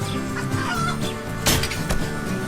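A chicken clucking in a survival video game, a few short clucks heard amid a steady ambient game soundscape, with no voices over it.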